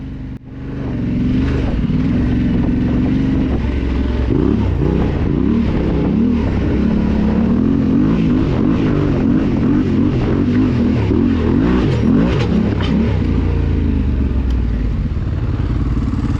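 Adventure motorcycle ridden through the Nellis Dunes off-road area in Nevada, its engine droning steadily and close throughout with wavering pitch as it works over the terrain, loud wind noise rushing over it.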